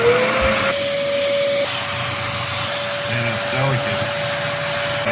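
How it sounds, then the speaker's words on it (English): Vacuum cleaner sucking dust out of a refrigerator that is not getting cold enough, a loud steady whine with rising pitch and scraping of the nozzle, someone speaking briefly over it. "Alright, so now let's just vacuum it out, right?"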